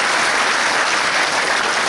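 Steady applause from an audience in a meeting hall greeting the mayor of Ostrołęka, dense and even clapping that fills the room throughout.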